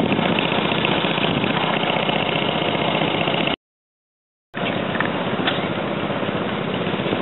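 An old McCormick Deering tractor engine, hand-cranked, runs steadily at a vintage farm and steam thresher show, a loud, continuous mechanical drone that cuts out for about a second before resuming.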